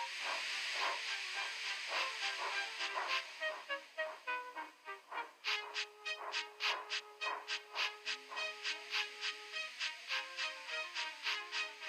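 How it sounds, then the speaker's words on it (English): A steam locomotive blows off steam in rhythmic hissing bursts that pulse repeatedly, quickening into a regular chuffing pattern with a faint whistle-like tone underneath. "with much noise and blowing of steam"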